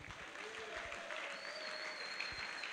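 A church congregation applauds and cheers in acclamation of the Lord, a sustained wash of many hands clapping with voices calling out, fairly distant and even throughout.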